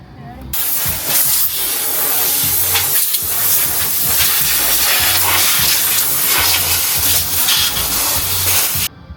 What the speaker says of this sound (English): I need to put the air compressor through.